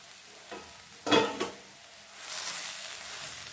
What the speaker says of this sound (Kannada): ಈಗ 1 ನಿಮಿಷ ನಾವು ಇದನ್ನು ಸಿಮ್ಮಲ್ಲಿ ಈ ಥರ ಬೇಯಿಸ್ಕೊಳ್ಳೋಣ